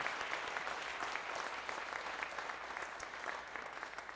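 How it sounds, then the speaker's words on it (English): Dense applause from a crowd at a career and technical education signing day welcoming incoming college students, steady and loud throughout with no pauses. "Let's have another round of applause for all of our incoming TMCC students."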